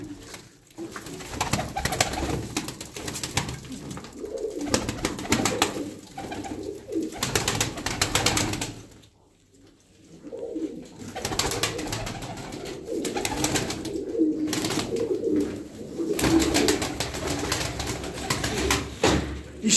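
Around ten young pigeons coo steadily and close by in a loft, soft overlapping calls continuing throughout with a brief lull near the middle.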